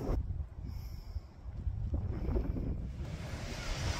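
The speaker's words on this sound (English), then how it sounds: "Welcome to a very windy, stormy Brighton." Strong wind buffets the microphone on a stormy Brighton seafront, with a rough, constant roar of gusts and surf rising and falling close by, no voices.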